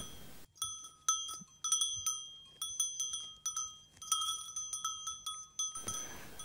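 Goats on a Brabant goat farm with many bells clanking steadily and overlapping in irregular rhythm, loud and close, continuing for several seconds before stopping abruptly.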